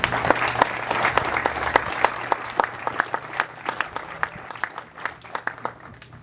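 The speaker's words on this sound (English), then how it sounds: "So please join me in applauding his efforts on our behalf as well." Audience applause at a ceremony honoring a soldier, individual claps distinct and rhythmic, starting strong and gradually thinning toward the end.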